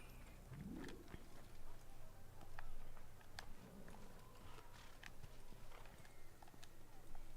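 Horse hooves clop at a steady walking rhythm in the video game Assassin's Creed, faint and soft under a low game ambience, with occasional small clicks.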